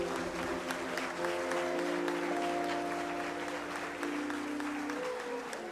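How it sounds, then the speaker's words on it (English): A church congregation in Accra applauds steadily and at close range, with a dense wash of clapping over sustained low tones running underneath. "And with a round of applause, let us congratulate for the fourth position, the kind family and patient family."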